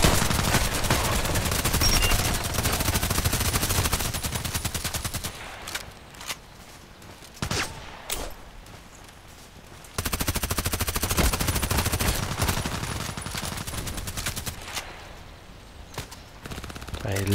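Loud sustained automatic gunfire in the Contract Wars shooter game, with rapid bursts, a quieter stretch of scattered shots and footsteps midway, then heavy firing again.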